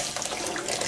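A cold water mixture is poured slowly into a simmering pot, giving a steady, close, continuous splashing pour with no talking.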